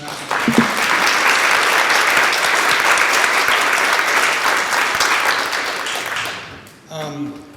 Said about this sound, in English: how about a round of applause for Jennifer